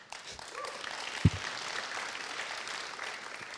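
Applause from an audience at a Raspberry Pi Foundation talk, a dense, even wash of many hands clapping at moderate distance, steady for the whole stretch.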